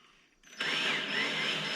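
A power drill drives screws into an Ooni Fyra pizza oven during a pellet-to-propane conversion. After a quiet moment the motor kicks in with a loud, steady whine that runs close up to the end, with no talking.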